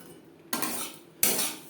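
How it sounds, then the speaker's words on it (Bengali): Semolina being stirred and roasted in a pan with a metal utensil, two short scraping strokes close up, each starting with a sharp clink against the pan and then fading into a soft gritty rasp, with no talking. "একটা কালার আসা পর্যন্ত নাড়াচাড়া করে নেব।"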